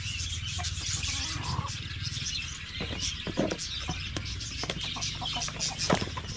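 Backyard chickens clucking and calling among the flock, with scattered bird chirps over a steady low rural background; the hens sound fairly close and continuous.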